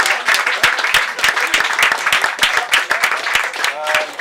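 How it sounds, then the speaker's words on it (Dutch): A poetry club audience in Rotterdam gives a big round of applause for poet McGregor, a loud, close burst of many clapping hands with sharp distinct hits, while a voice speaks briefly over it. "mag ik dan in de voorstelronde een groot applaus voor McGregor"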